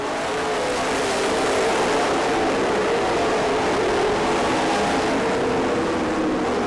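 Race cars roar steadily around a dirt track, a loud, dense engine drone from several cars filling the whole stretch with no voices over it.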